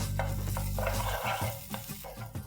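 Garlic and red chili paste dropped into hot oil and butter, a close crackling sizzle with clinks and scrapes of stirring, settling into a softer fizz.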